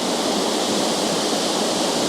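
Triple Falls on Vancouver Island roars as a dense, steady rush of falling water, loud and close, with no break or change across two seconds and no other sounds over it.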